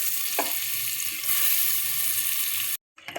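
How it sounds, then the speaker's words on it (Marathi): A piece of butter melting in a little hot oil in a pot, giving a steady close sizzle and hiss that cuts off abruptly near the end, with no talk. "आतां एक हांड्या थोडेशें तेल घालपाचें आनी एक बटरा पीस आनी मागीर तें बरें करून मेल्ट करपाचो बटर"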